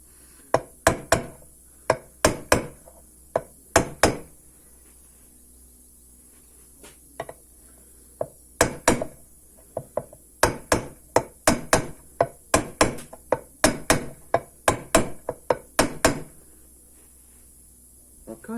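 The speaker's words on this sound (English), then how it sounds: "Not whacking it, just tapping it. Okay, and only on the outside of the bearing." A hammer taps a crankshaft bearing into place, striking only its outer race: a long series of sharp, light metallic knocks in quick clusters with short pauses, close and clear with no talking.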